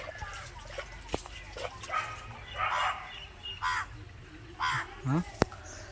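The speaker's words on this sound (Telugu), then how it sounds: "కాకులు ఎక్కినాయి పైన" Several harsh caws from crows, in short scattered bursts at a middle distance, mixed with a few sharp knocks and faint background noise.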